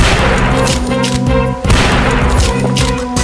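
Gunshots in the horror video game Deer Hunt ring out as loud, rapid, overlapping bursts of fire with booming impacts, nearly continuous and dense, with a brief dip in the middle.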